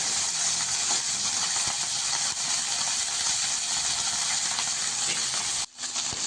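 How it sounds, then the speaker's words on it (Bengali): Mourala fish coated in salt and turmeric frying in hot oil in a wok: a loud, dense, unbroken sizzling hiss with a brief dip near the end. "এবার নুন হলুদ মাখানো মাছগুলোকে কড়াইতে দিয়ে দেব।"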